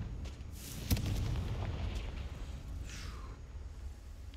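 A Confringo blasting spell goes off in Hogwarts Legacy, one sharp loud crack followed by a rolling rumble that fades, then a softer whooshing sweep a couple of seconds later.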